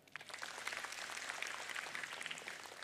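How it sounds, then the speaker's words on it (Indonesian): Applause from an audience at a speech, a steady, dense patter of many hands clapping at moderate distance and holding evenly throughout. "Tepuk tangan."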